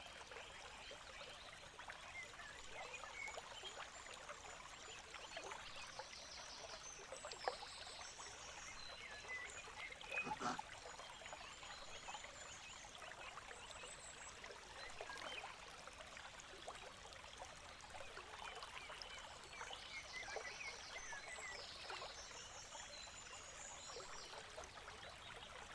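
Steady trickling water runs throughout with faint bird chirps scattered high above it, all quiet and continuous, heard in the background of an online school board meeting.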